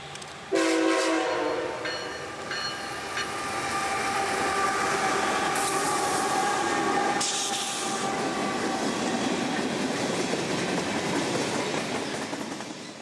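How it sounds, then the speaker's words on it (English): CSX freight train M584 on the W&A line rounding a bend in town, a loud horn blast opening into a steady, close rumble of wagons with clickety-clack and hiss continuing throughout. "the W&A as train M584 rounds the bend"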